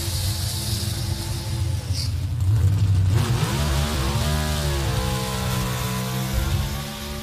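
A Pro Stock drag car from Dallas Glenn's team in round two eliminations, heard as a loud, sustained engine roar that swells and shifts pitch midway, rising and falling as it launches down the strip, with no voices.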